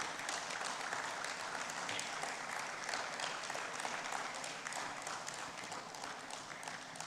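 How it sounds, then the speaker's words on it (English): An audience at a West African clean energy conference claps steadily and densely, sustained applause welcoming a speaker to the stage, with no break across the stretch. "Please, a round of applause for him as we welcome him to the stage."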